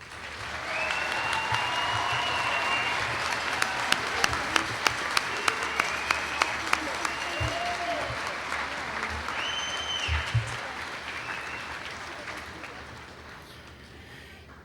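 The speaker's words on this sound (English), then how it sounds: "Let's give him one more round of applause." A graduation commencement crowd claps steadily in a large hall for a graduate, with sharp individual claps and a few whoops standing out before the applause gradually tapers off.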